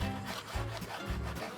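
A kitchen knife trims the thin edge off a raw salmon fillet with close, soft rasping strokes, a few quick repeated cuts over under two seconds, faint and with no talk.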